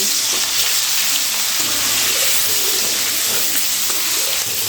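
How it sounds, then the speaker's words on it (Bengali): Hilsa fish heads fry in hot white cooking oil in a kadai, giving a loud, continuous crackling sizzle with hissing spatter that holds steady throughout, with no talking. "তেল যখন ভালো করে গরম হয়ে যাবে তখন এই মাছের মাথা দিয়ে ভেজে নিতে হবে"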